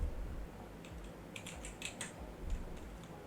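Keys on a computer keyboard being pressed. A short burst of crisp clicks comes close to the microphone, with a few scattered taps before and after over a quiet room hum.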